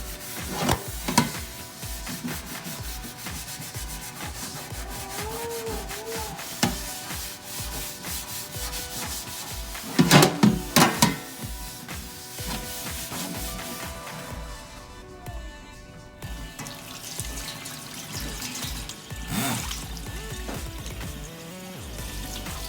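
Steady, harsh scraping and scrubbing with a metal wool brush that runs throughout, with bursts of louder rubbing and faint clinks, close and noisy.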